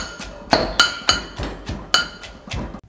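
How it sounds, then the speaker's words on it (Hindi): Cooked meat for Lahori hareesa being pounded into shreds with a mortar and pestle, about nine sharp thuds with a ringing clink, in an irregular steady rhythm, close and fairly loud with no talk. "इस तरीके से इसको कूट के इसके रेशे तैयार कर लेंगे।"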